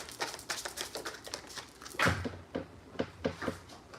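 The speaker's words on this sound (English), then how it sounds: "y'all got me actually shuffling my mudra cards" Mudra cards handled and shuffled in a quick rhythmic series of soft slaps, close and fairly quiet, with a louder knock midway.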